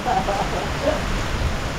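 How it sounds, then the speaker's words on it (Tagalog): Steady, dense hiss of heavy typhoon rain pouring down without pause, loud and continuous, with a faint voice buried underneath. "Lakas ng ulan"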